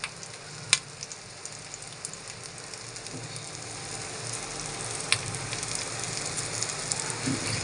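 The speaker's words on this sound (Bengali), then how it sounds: "এক এক করে প্রত্যেকটি একই রকমভাবে ডিমে ডুবিয়ে ভেজে নিব" Egg-dipped green banana kebabs fry in a pan with a soft, continuous sizzle that builds slightly, broken by a few sharp pops and crackles.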